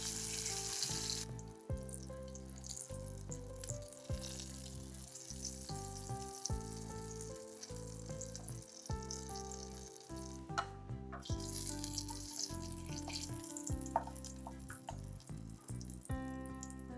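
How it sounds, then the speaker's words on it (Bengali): Brinjal pieces frying in hot oil for Bengali doi begun, a steady bright sizzle running throughout with occasional clinks and stirring noises from the pan, heard up close while background music plays. "তেল গরম করে বেগুনগুলো ভালো করে ভেজে নেব।"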